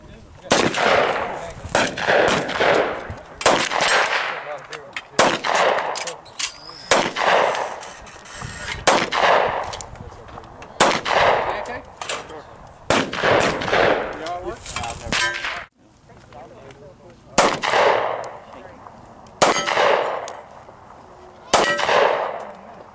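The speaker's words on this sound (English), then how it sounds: "I'm going to roll in some shooting footage" Smith & Wesson Chiefs Special CS9 pistol firing: a series of sharp, loud gunshots in irregular bursts, each shot a hard crack with a brief metallic ring, spaced by short pauses across the stretch.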